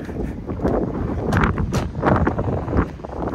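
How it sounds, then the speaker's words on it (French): Wind buffets the microphone in low rumbling gusts, with loud bursts swelling and easing throughout, close and steady with no voices. "il y a un petit peu de vent."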